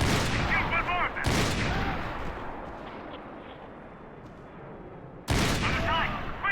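Bursts of gunfire in the video game Max Payne 3: two loud volleys open and close the stretch, with a rumbling battle wash between them and brief shouted voices over the shooting.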